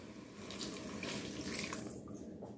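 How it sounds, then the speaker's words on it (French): A little water pours into a Cookeo electric multicooker pot during a carrot, potato and frankfurter recipe, making a short, steady, close splashing trickle with no speech over it. "Donc là, je vais rajouter un petit peu d'eau."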